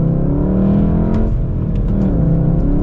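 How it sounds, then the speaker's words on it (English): A Volkswagen Golf R with an inline four-cylinder engine accelerates, its loud close engine drone rising in pitch with a brief dip as the gear shifts, heard from inside without talk. "See how it accelerates here."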